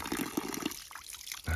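Year-round spring water runs steadily from a hose into a collection barrel, a close continuous trickling and splashing that ends in a louder gush.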